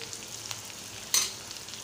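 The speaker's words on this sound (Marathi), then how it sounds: "तेलात थोडा वेळ फ्राय करू देणार आहोत, म्हणजे तेलात भाजू देणार आहोत" A spice mixture fries in oil in a pan, with a soft, even sizzle and a sharper burst of hissing partway through.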